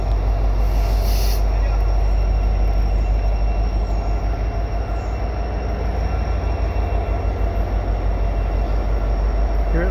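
A CN freight train hauled by two back-to-back SD70M-2 locomotives rolls past a Lasalle Boulevard bridge with a steady, loud low rumble and rhythmic wheel clatter, plus a brief high squeal near the start, throughout the whole stretch.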